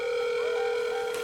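A steady telephone dial tone plays while a call is being placed, holding one unbroken tone throughout, fairly loud and close, with no voices over it.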